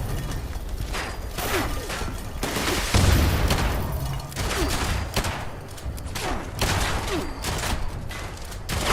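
Missile launcher fire and explosions in Fallout 76 on PC, a fast series of sharp blasts and booming impacts at moderate distance, with brief speech mixed in.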